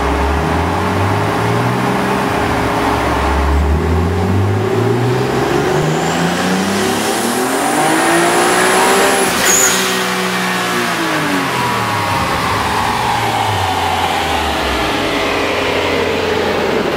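A turbocharged BMW E46 M3 revs hard in third gear on a dyno, its engine note climbing steadily through a long full-throttle pull before dropping off, loud and close with no talk.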